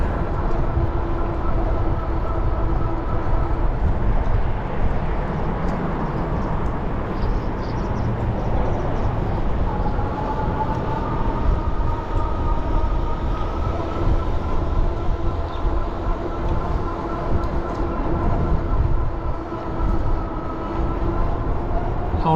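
A train rumbles past nearby with a steady roar and wheel noise, faint high tones drifting over the continuous rush.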